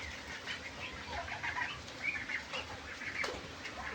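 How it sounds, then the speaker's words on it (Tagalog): Farmyard ducks in Taal, Batangas, heard as scattered soft calls and wing flutters over a low, steady outdoor background, with nothing standing out sharply. "Halo-halo, may itik,"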